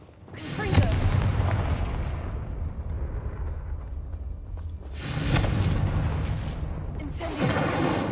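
Confringo blasting spell explosions in Hogwarts Legacy: a heavy, booming blast at the start with a long rumbling tail, then two more loud bursts a few seconds apart.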